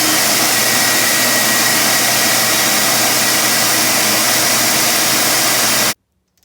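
A Shop-Vac shop vacuum roars loudly and steadily at close range with a broad, hissing whine, running without pause for about six seconds before cutting off abruptly into near silence.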